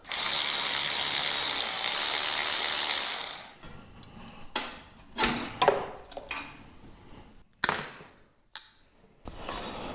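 Ratchet clicking on the solenoid nuts of a big garden tractor, starting with a long steady run of close, loud ratcheting strokes, then breaking into short irregular bursts of clicks with pauses between.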